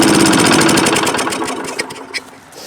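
A Briggs engine on a Craftsman Eager-1 lawn mower runs at full throttle with a fast, rough, pulsing drone that begins to falter and sputter toward the end, close and loud with no voices.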